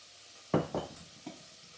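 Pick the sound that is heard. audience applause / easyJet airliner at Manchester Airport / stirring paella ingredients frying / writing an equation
stirring paella ingredients frying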